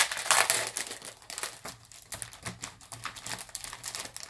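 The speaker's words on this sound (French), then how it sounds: "On va l'ouvrir, hein, je vais vous montrer. Alors, désolée pour le bruit." Plastic packaging on a Stamperia scrapbooking paper pack crinkles and crumples up close as it is opened, in short, irregular bursts of sharp rustling with brief pauses between.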